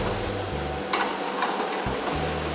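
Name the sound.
fish curry mixture cooking on slow fire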